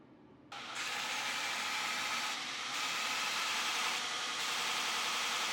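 Belt grinder grinding knife handle scales held against a wood block on the work rest: a dense, steady abrasive roar that starts abruptly and runs continuously, close and even.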